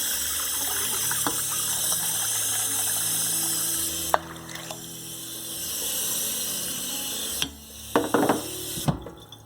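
Tap water pours into a crock pot holding black beans, a steady running gush broken by a couple of pauses and clunks, then resuming in short bursts near the end.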